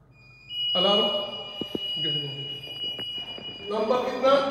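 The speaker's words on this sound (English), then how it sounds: "Alarm." A building fire alarm sounds during a smoke and heat detector test, a steady electronic tone with a pulsing buzzer layered over it, while people talk nearby and footsteps thud.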